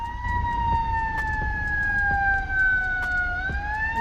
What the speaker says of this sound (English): Let's wait till this ambulance go past.